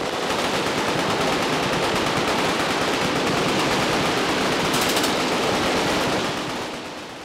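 Sustained machine-gun fire at an American shooting event where the aim is to destroy everything in sight, a dense unbroken roar of rapid shots lasting several seconds before tapering off at the end.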